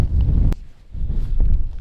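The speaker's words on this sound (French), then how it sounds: "un sacré beau spot et énormément de vent" Strong wind buffeting the microphone at a castle ruin in Wales or Ireland, a heavy low rumbling roar that surges, dips briefly, then returns with bumps of handling noise and no voices.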